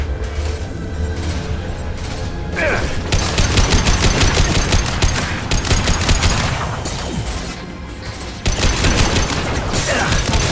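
Dense sci-fi firefight in Mass Effect 2, with rapid bursts of automatic weapon fire and mechanical clatter, loud and close, sustained across the whole stretch with brief pauses.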